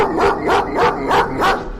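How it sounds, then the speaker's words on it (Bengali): A dog barks in a quick series of four loud, close barks with a whining edge, used as a sound effect in a Bengali suspense audio story, with no voices. "কুকুরটা ডাকছে,"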